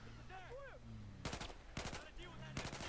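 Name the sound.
50 cal machine gun fire in video game Battlefield 4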